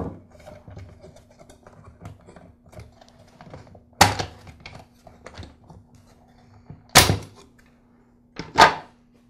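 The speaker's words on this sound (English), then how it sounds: "I'll use a screwdriver to help split the two halves of the motor housing." A screwdriver pries apart the motor housing halves of a Black and Decker CST1200 string trimmer: faint scattered clicks and scrapes, then three sharp, loud cracks as the plastic halves snap loose.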